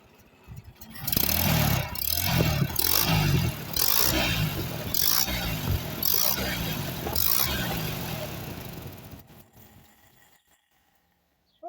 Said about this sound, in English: Look how slow that idles, how smooth it idles. That's a brand new carburetor.